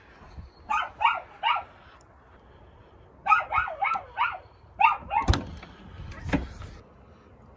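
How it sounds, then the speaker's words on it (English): A dog barks in two quick bursts of three or four sharp barks each, loud and close, followed by a few scattered thumps and clatters. "What are you barking at?"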